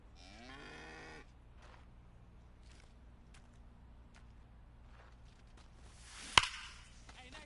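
A cow moos in a baseball video game, MLB 25, during an in-game sponsor spot: one loud, wavering low call at the start, then quiet crowd ambience and a single sharp crack near the end.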